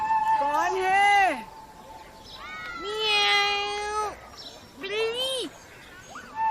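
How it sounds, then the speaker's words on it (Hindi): Several drawn-out, rising-and-falling cat meows in a village home, three distinct calls with short pauses, fairly close and clear, with faint background noise between them. "बिल्ली।"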